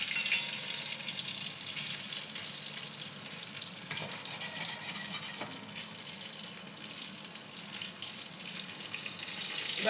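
Food fries in a pan with a soft continuous sizzle, and stirring scrapes come and go over it at a moderate, fairly quiet level. A couple of sharper clicks occur midway and no one talks.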